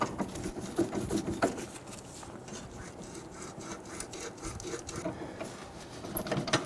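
A rusted control arm bolt on a Toyota RAV4 is worked back and forth, giving a faint, steady rasping and grinding with rhythmic scraping strokes close by.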